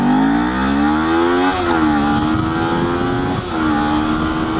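A Kawasaki Z400 motorcycle accelerates hard in first gear, its engine note rising loud and close, then dipping briefly at about one and a half seconds before climbing again and easing near the end.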